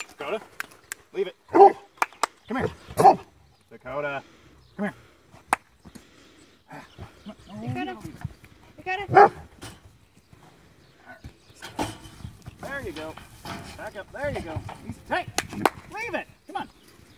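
A Great Pyrenees on a cattle farm gives a handful of sharp, scattered barks, fairly close, interleaved with people talking and other farm noises.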